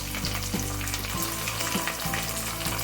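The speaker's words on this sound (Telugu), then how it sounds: "ఇప్పుడు అన్నీ వేపుకుందాం. ఇవన్నీ కలుపుకుందాం. ఇలా మొత్తం వేగేదాకా." Dried chillies, chana dal, urad dal and cashews frying in hot oil for mango rice, a continuous close sizzle with soft crackles and occasional scrapes of stirring.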